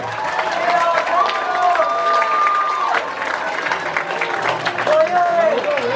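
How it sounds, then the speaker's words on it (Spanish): Audience at a children's party applauding steadily for several seconds, a dense continuous wash of clapping with some crowd noise and cheering mixed in, fairly close and loud. "Así que un aplauso a Marcelino, que se lo merece."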